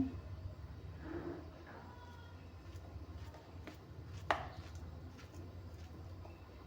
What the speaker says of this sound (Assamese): এতিয়া কলটো কাটি দিম।